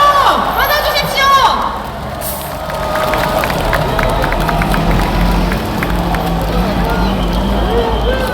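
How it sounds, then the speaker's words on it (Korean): A political rally crowd cheers and applauds as the leader of the Rebuilding Korea Party takes the stage, a loud, sustained roar of claps and shouts with voices and crowd babble mixed in throughout. "큰 박수로 맞아주십시오."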